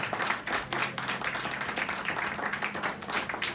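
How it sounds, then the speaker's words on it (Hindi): A church congregation at a Sunday service claps loudly, a dense, continuous patter of many hands throughout. "आइए प्रभु के लिए जोरदार ताली बजाएं।"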